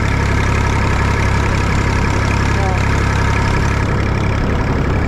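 A little red tractor's engine idles close by, a loud, steady low-pitched drone with an even mechanical pulse and no change in speed throughout.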